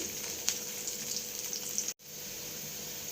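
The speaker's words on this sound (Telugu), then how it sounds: "ఫ్రెండ్స్ చూడండి, తాలింపు అయితే మంచిగా వేగిపోయింది." Tempering (popu) with dry red chillies and curry leaves frying in a pan for cucumber, peanut and tomato chutney: a steady hissing sizzle with small pops, cut off abruptly near the end, then resuming more faintly.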